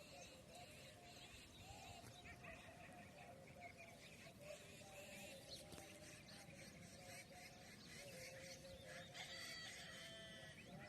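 A rooster crows on a village morning amid a busy outdoor chorus of clucking hens and chirping birds, with steady rural background noise throughout.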